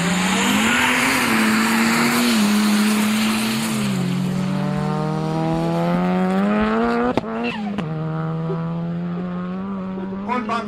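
Drag racing car launching on a quarter-mile strip, a loud sustained engine roar with gear-shift pitch changes, sharp cracks or backfires partway through, then continued engine drone; close and dominant throughout.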